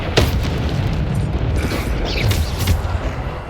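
Bombarda spell blast in Hogwarts Legacy, a heavy booming burst with rumbling low end and some mechanical creaking, loud and continuous for a few seconds.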